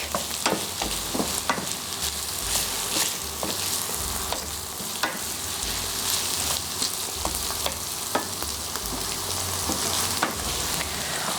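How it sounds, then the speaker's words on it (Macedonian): Cracklings sizzle steadily in a pan while being fried and stirred, a close, continuous crackle with scattered sharp pops and occasional scraping stirs, no talking over it. "Сега ова пржење ќе трае сигурно едно 10 минути."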